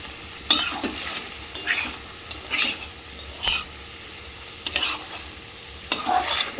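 A vegetarian flat bean curry (shim chorchori) with chopped coriander is stirred in a pan, with a gentle sizzle under repeated scraping strokes of a spatula against the metal, close and moderately loud, with no talking.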